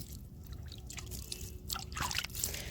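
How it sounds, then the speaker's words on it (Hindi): Water is poured onto newly planted leafy vegetable seedlings in soil, giving soft drips and light splashes over a steady low outdoor background, with no speech. "थोड़े से पानी सींच दीजिए इसमें।"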